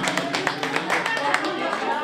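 A few people clap in quick, close bursts at a home birthday party, with a person talking over the claps.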